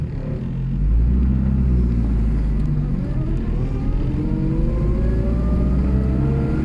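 A Citroën Traction's engine pulls away from a standstill, a close, loud rumble that rises as the car accelerates, its pitch climbing steadily, with no talking over it.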